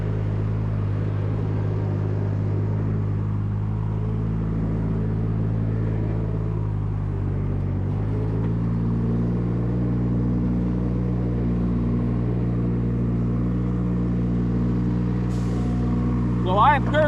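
A Giant 1200 tele telehandler's diesel engine runs with the throttle held in, a steady low rumble with a slight rise in pitch partway through, close by, with a brief squeal near the end.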